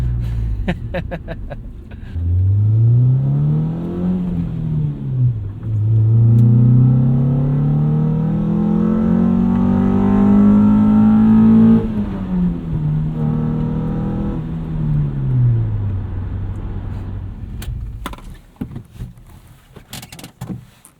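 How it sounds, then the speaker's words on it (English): A 2001 Honda CR-V with a manual transmission accelerating on a drive, its engine note climbing and falling through several gear changes, loud and close inside the cabin, then easing off to quieter rattles near the end. "Finished a test drive of the 2001 manual transmission Honda CRV."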